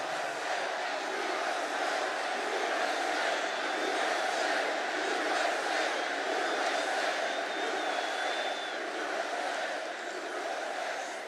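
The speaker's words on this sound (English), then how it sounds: "What a crowd this is." A large crowd at a Trump campaign rally in Allentown, Pennsylvania roars and cheers in a dense, sustained wash of voices that stays loud and unbroken from start to finish.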